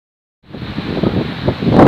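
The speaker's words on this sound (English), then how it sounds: "it's a bit windy up here" Wind on high wooded ground at Perry Wood in Kent rushes across the microphone, starting abruptly after a brief silence and building into a loud, breathy roar.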